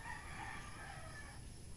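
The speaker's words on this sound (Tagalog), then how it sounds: "Ito yung manok namin." Pet rooster crowing, a single faint, distant cock-a-doodle-doo under a steady background hiss.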